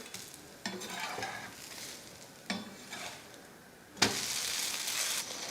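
A dosa sizzling on a hot pan after being flipped, a quiet steady hiss broken by a few scraping stirs and a sharper surge of sizzle near the end, no talking.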